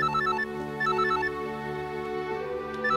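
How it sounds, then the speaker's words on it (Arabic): A telephone rings with a continuous melodic electronic ringtone, loud and close, repeating its tone pattern steadily throughout with no voices over it. "ما بتردش على التليفون ليه؟ رد على التليفون."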